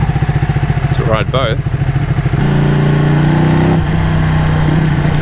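Ducati Panigale 1199 S motorcycle engine running close by, a steady pulsing rumble that shifts into a higher sustained drone partway through, with a voice briefly talking over it early on.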